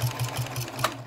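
Sewing machine stitching a vinyl project bag at a fabric corner, a steady run of rapid mechanical needle strokes in even pulses, close and clear with no talk.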